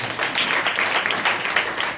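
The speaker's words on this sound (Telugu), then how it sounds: "చప్పట్లు కొట్టి గట్టిగా చప్పట్లు." Applause from an audience inside a church: a dense, steady roar of many hands clapping, loud and sustained for the whole stretch, with no talking.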